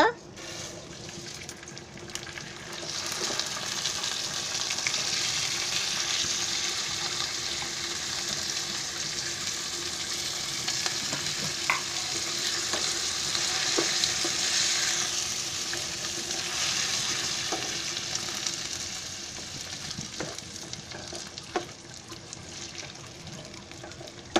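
Washed rice being stirred in ghee in a pan makes a constant close sizzle and frying hiss, with occasional light scrapes and knocks throughout, sounding without any voice.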